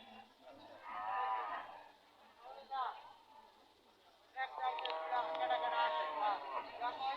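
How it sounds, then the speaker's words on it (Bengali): Cattle lowing at a village cattle market, repeated drawn-out moos close by, one ending mid-clip and a louder, longer one following, over faint background murmur. "এই গরুগুলো"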